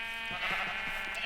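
Sheep bleating in a pen in the video game Minecraft, a few short wavering bleats over a steady synthetic background hum, close and moderately loud.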